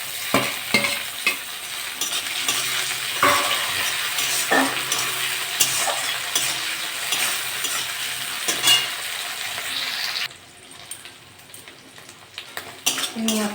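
Prawns crackle and hiss in a hot pan while a spatula stirs and scrapes, with occasional metal clinks; the close, steady frying drops to a quieter sizzle near the end.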